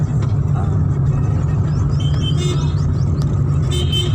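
A car engine rumbles steadily and loudly throughout, with a small child at the wheel under an adult's guidance and faint chirps over the drone.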